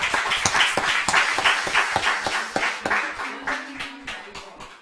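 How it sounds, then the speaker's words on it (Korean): A church congregation at a Thanksgiving service claps in a brisk burst of distinct, close hand claps with an uneven rhythm, while a voice speaks briefly partway through. "우리 박수 한번 하죠."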